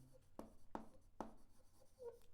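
Chalk or pen strikes a board in three sharp, distinct taps with fainter scratches between them, quiet and close during a physics lesson on mirrors, with no talking.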